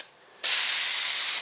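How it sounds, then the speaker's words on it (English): A spray paint can releases one steady, close hiss of about a second as paint is applied to the roof of a Lionel model train passenger car. The spray starts abruptly after a brief quiet moment and then cuts off. "I'm using the spray can."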